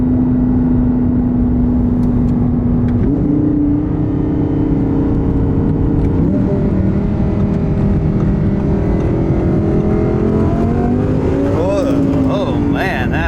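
Twin turbo Audi R8 of about 900 horsepower accelerating on light throttle, a loud continuous engine drone with rising and falling tonal sweeps as revs climb, close by, with a voice talking over part of it.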